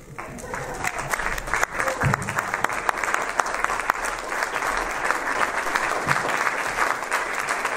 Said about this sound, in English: give Dr. Wood a standing ovation, welcoming her to Yachats